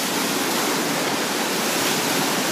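Loud, dense roar of rushing white water on a Bigfoot Rapids river raft ride, a continuous close hiss with no break, heard alone without talk.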